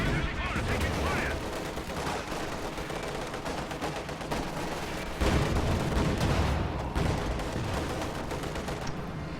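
Dense, continuous gunfire and heavy anti-tank gun shots in a World War II strategy game battle with T-34 tanks, loud and sustained throughout with several stronger booms and a faint voice underneath.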